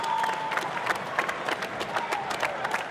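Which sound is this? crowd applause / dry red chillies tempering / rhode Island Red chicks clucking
crowd applause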